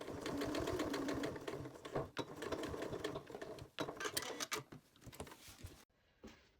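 Sewing machine stitching bias tape onto a waterproof fabric bowl cover, a rapid steady mechanical whirr with pauses and restarts as the seam goes around, then stopping and falling quiet near the end.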